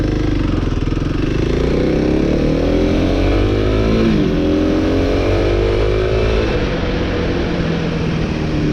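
A 2026 Kawasaki KLX300 motorcycle pulls away in second gear, its engine loud and close as the revs climb steadily, dip briefly at a shift, then rise again, with no talking.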